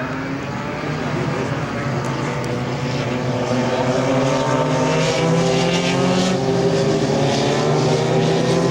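A B-25 Mitchell propeller bomber, the Panchito, roars past at an airshow, its piston engines droning loud and steady with a rough, throbbing propeller buzz that swells slightly as it nears.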